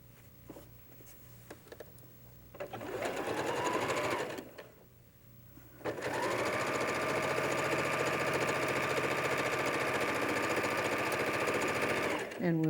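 A sewing machine stitches pentagon-shaped quilt pieces, running in a short burst, pausing briefly, then stitching steadily for about seven seconds at close range, with the motor whine and needle rattle clear and no talk over it.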